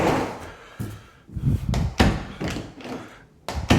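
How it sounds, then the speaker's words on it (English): An interior door in a freshly finished house, sticking on paint that has not fully dried, pops open, followed by a series of close thumps and knocks. "when I first opened that door, that little pop"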